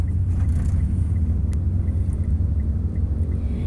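Low, steady rumble inside a moving car at night, a constant engine and road drone with no voices, continuous from start to end.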